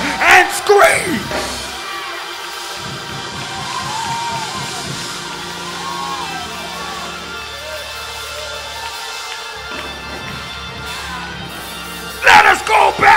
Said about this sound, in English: Stand on your feet and scream.